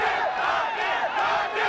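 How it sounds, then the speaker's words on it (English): A cricket crowd at a Biratnagar versus Janakpur match roars and cheers loudly and steadily, a dense wash of many voices with no break. "despite the roars of the crowd"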